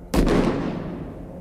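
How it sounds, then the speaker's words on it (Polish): A single sharp gunshot rings out loud and close, its boom decaying over about a second with no other sound around it. "Tę wymianę zdań przerywa pojedynczy strzał."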